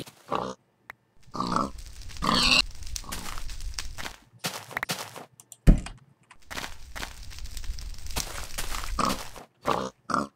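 Pigs grunt in a video game world with creepers and zombies, giving a few scattered snorts among game sounds and soft clicking, fairly close and moderately loud.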